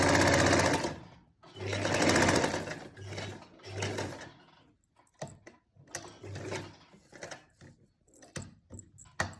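A sewing machine stitching a lined kameez runs in repeated bursts, long at first and then shorter and choppier, with its whirring motor close and clear and gaps of quiet between runs.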